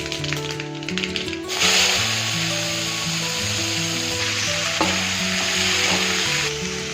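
Cluster beans stir-frying in hot oil with mustard seeds and dried red chillies, a steady close sizzle and crackle throughout with light stirring, while background music plays underneath.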